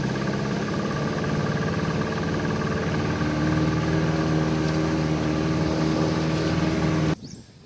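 A small Riverhawk outboard motor on a little boat in a swamp drones steadily with a humming, buzzing tone close by, cutting off abruptly near the end.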